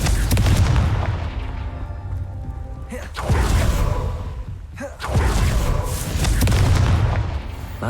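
Confringo blasting spell explosions in Hogwarts Legacy: two loud booming blasts about two seconds apart, each a sudden crack with a heavy rumbling tail, set amid an ongoing deep roar of combat.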